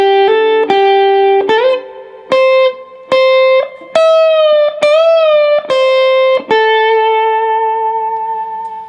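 Electric guitar plays licks from a song's guitar solo, clean sustained notes with slides and bends in a phrased melodic run, ending on a long ringing note that slowly fades.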